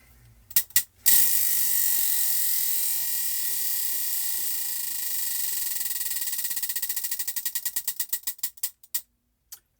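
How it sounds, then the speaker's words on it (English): A clicking prize-style wheel spun to choose a crochet stitch for a spring throw: a dense, rapid ratchet of ticks starts loud and steadily slows into separate spaced clicks before stopping, with no voices. "Let's go ahead and spin for stitch number 4."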